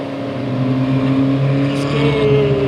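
Engine of a 1967 Nomad Mk 1 race prototype, rated at 192 horsepower, running on a circuit. It gives a steady, loud, close drone with a rich harmonic tone that holds throughout.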